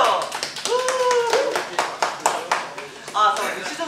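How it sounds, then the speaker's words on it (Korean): A small group claps briefly on a Korean idol eating talk show, loose irregular hand claps close by, with people talking and laughing over them throughout. "자 박수!"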